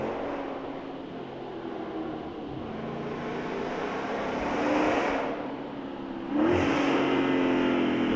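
A Dodge Scat Pack with an aftermarket catless catback exhaust revs and downshifts, its engine note rising and falling with a louder, sharper blip near the end, moderately close and without talk.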